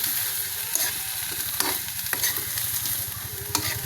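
Fish frying in hot oil gives a loud, steady sizzle with bursts of crackle and sharp pops scattered throughout, close up and with no voices.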